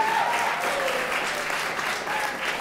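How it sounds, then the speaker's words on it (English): Applause from the audience at an outdoor Black American Heritage flag-raising ceremony in Springfield, a steady, even round of many hands clapping that holds at full strength throughout without any speech over it. "Let's give her a big round of applause."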